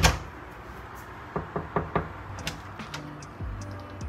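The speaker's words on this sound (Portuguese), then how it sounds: "bate na porta." Knuckles rap on a bedroom door, first in a quick cluster of four knocks and then a few lighter taps, moderately close against a faint room hiss.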